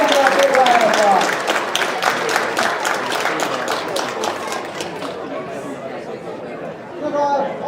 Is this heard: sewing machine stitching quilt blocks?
no